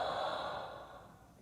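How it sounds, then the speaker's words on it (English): Heavy, labored breathing in a horror game, a single long breath that starts loud and close and slowly fades, heard alone with no talk. "And you hear the breathing, right?"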